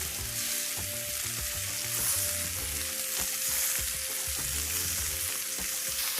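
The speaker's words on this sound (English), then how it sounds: "Now that the oil is medium hot, let's start frying these chicken pieces." Marinated chicken pieces fry in medium-hot oil for butter chicken, giving a steady, close sizzle throughout with tonal background music underneath.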